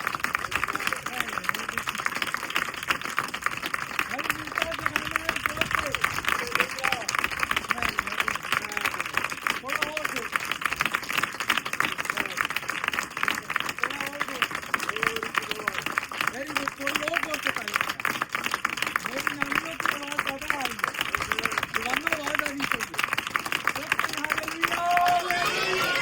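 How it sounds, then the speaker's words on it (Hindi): A church audience claps loudly and continuously for the whole stretch, a dense steady wash of applause with voices and chatter mixed in. "जरा वो जोरदार तालियां खुदावन की जलाल की।"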